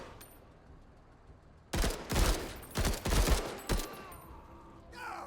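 Gunfire in the sci-fi turn-based tactical game Menace: several loud bursts of automatic fire in quick succession over about two seconds, rising out of a quiet background, with a brief pause between volleys.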